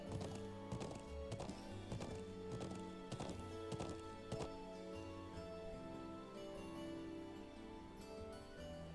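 Horses gallop across open plains in the video game Trails of Cold Steel. The hoofbeats are rhythmic and fairly close, with a backing of game music.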